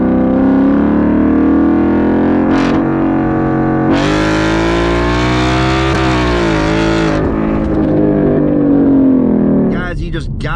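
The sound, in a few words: internal combustion V8 engine screaming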